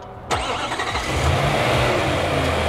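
A 2018 Nissan NV3500 van engine, its oil pan full of sludge, cranks with a sharp onset and catches, then settles into a steady, loud, close idle with a low rumbling hum and no talking.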